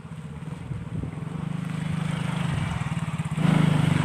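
A motorcycle engine running close by with a steady, throbbing low drone that grows louder and rougher toward the end.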